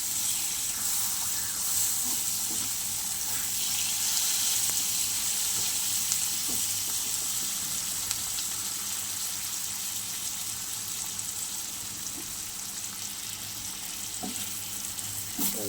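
Bhola fish curry with tomato sautéing in a pan, a steady close sizzle and frying hiss running throughout with faint scraping stirs, no one talking.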